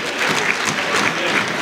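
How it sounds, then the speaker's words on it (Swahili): A crowd at a political speech in Mbeya gives loud, dense, continuous applause that fills the whole stretch without pause. "Kwa kweli tujipigie makofi mengi sana."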